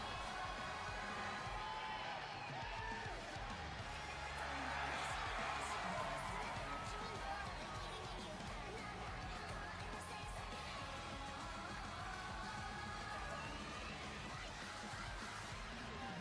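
Crowd noise in a horse racing video game: a distant, continuous roar of cheering with a few whoops rising briefly, steady and mid-level under a speaking voice.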